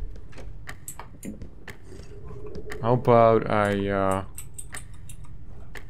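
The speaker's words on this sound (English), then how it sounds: "what's the ticking?" Faint, irregular clicks tick through the eerie ambience of a horror video game, while someone briefly speaks over them.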